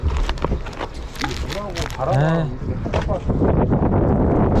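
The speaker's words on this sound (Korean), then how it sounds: "바람이 많이 불어서" Strong wind buffeting a fishing boat out at sea, roaring steadily against the microphone, while people talk and shout over it.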